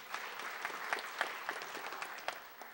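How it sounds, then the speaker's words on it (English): Sparse, faint clapping from a small audience at a township police awards ceremony, with individual claps standing out in an uneven patter before it fades. "if you give him a round of applause"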